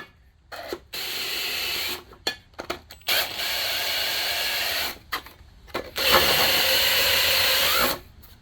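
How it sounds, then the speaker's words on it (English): A Kawasaki 1500cc jetski engine cylinder has its top edge lightly deburred with a rotary tool, giving four steady, close grinding bursts of a second or two each, separated by short pauses and small handling clicks. "We're just going to deburr the top edge."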